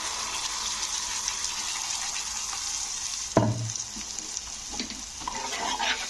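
Spice paste sizzles steadily in a hot pan for a South Indian style egg curry, with a spatula scraping and stirring in brief knocks over the constant frying hiss.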